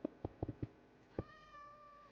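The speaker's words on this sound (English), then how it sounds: "I hear you, kitty cats." Cats meowing in Minecraft: a quick run of five or six short, clipped meows, then a single meow after a pause and a thin, sustained tone fading out, all fairly quiet and with no talking.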